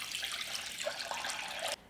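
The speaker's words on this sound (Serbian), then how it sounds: "Napunit ću šerpu sa vrućom vodom do visine poklopca." Hot water pours into a cooking pot in a home kitchen, a steady hissing splash that runs close and fairly loud before cutting off abruptly near the end, with no voices.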